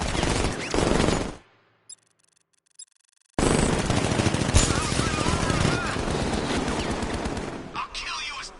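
Guards in the video game Batman: Arkham Knight open up with loud, rapid automatic gunfire in two bursts separated by near silence, the second a long sustained fusillade.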